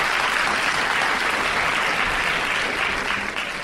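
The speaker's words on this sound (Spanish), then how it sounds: "Recibimos con un fuerte aplauso a..." Studio audience at a television show breaks into loud, dense applause that continues steadily throughout and tapers slightly at the very end.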